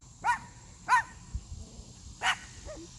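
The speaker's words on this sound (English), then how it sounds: "Sorry about the dogs, guys." Neighbors' dogs bark outdoors at a residential building site, three or four yelping barks spaced about a second apart, moderately distant over a steady background hum.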